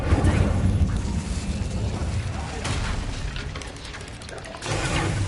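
A fire spell cast in a Harry Potter video game erupts as a dense, roaring burst with booming, crackling bursts, loud and sustained, then swelling again near the end.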